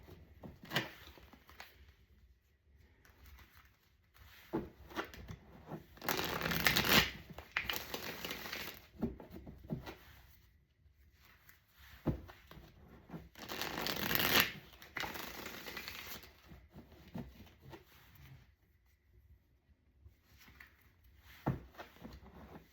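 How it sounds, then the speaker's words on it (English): A tarot card deck is shuffled nearby in two distinct riffling bursts, with quieter handling, tapping and card rustles between them. "Give me a second, let me shuffle."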